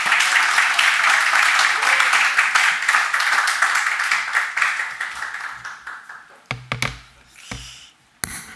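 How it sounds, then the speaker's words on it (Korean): Sustained applause from an audience welcoming a lecturer at a church leadership lecture, a steady wash of clapping that gradually thins out, ending in a few scattered claps and knocks. "강사님 나올 때 박수로 환영하겠습니다"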